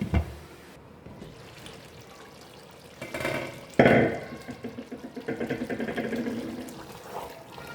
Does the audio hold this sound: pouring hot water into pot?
yes